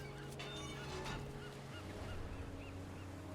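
Geese honk repeatedly in The Unfinished Swan video game, a string of nasal calls over a steady low ambient drone and faint wash like surf, fairly quiet and with no voices.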